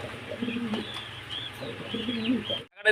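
Fancy pigeons cooing softly in a loft, low rolling coos repeated through the stretch with a few faint chirps, ending in a brief dropout and a sudden noise.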